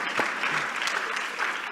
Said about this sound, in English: In Seattle, we like applause.